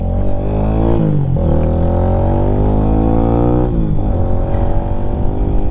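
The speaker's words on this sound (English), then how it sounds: "I'll rev it up a little bit more, and I'll drop it into first." A Lifan motorcycle engine runs close and loud, revving up and down twice, its pitch rising and then dropping back to a throaty idle.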